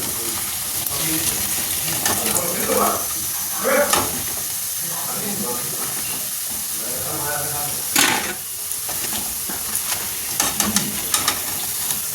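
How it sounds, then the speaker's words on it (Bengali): Chicken fingers frying in hot oil, with a steady broadband sizzle running throughout, occasional louder crackles and clatter, and faint voices in the background. "এখন এই চিকেন ফিঙ্গারগুলোকে একটু ভেজে নিই"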